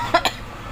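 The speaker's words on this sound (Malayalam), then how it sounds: "ചുമ എന്നെല്ലാം പറഞ്ഞാൽ സഹിക്കാൻ പറ്റാത്ത ചുമ" Two short, sharp coughs in quick succession, close and fairly loud, from a person with a harsh, persistent cough, followed by quiet.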